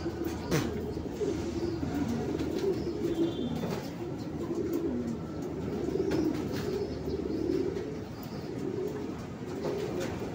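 Racing pigeons coo and call around a toss release, a steady bird chorus over a constant outdoor rumble, with occasional voices in the background.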